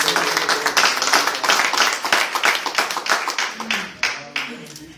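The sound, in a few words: church congregation applauding the Lord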